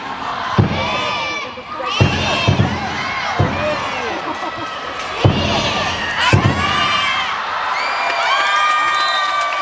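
Loud crowd at a KB volleyball match cheering and chanting in bursts, with sharp thumping claps and slams, high shouts and whoops rising over a dense arena roar.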